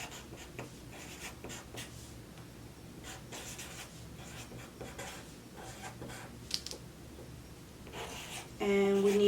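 A marker writes a label on a fabric pattern piece, several quick scratchy strokes heard up close and faint, followed near the end by a short louder rustle.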